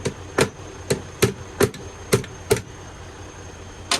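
A truck air line glad hand coupling struck repeatedly to tighten it, about nine sharp metallic knocks at uneven intervals, close and distinct against a quiet background hum.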